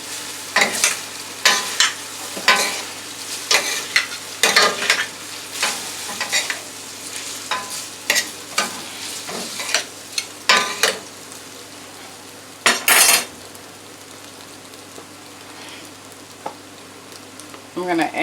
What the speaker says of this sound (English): I'm going to drop the pasta right in there. So the pasta can also get some flavor.